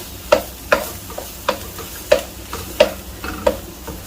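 Samosa potato filling is stirred in a pan, a spoon knocking against the metal in a steady series of sharp taps about every half second over a faint, continuous sizzle.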